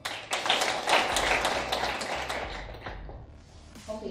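Scattered hand clapping from a small forum audience at a Kenyan moot court competition final, a brief burst of taps that fades over a few seconds, with some voices mixed in.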